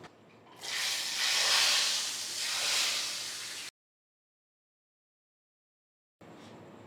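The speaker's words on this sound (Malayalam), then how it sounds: "ഇത് ഉടനെ തന്നെ സാമ്പാറിൽ ഒഴിച്ചു കൊടുക്കാം." Hot tempering with cumin powder poured into Kerala-style small onion sambar gives a loud, broad hiss that surges, dips, swells again and stops abruptly, then silence before a faint hiss returns.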